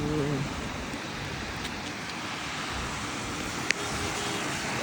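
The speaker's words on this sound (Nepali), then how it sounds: "कुवेतमा जाडामा पानी यत्रो मुसलधारे पर्यो" Heavy winter downpour in Kuwait, a dense, even wash of rain noise that stays steady throughout, with one sharp knock partway through.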